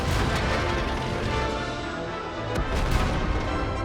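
A Lorraine tank empties its autoloader magazine in World of Tanks, heavy cannon shots booming out in quick succession amid a rumbling, dense battle background, with strong blasts near the end.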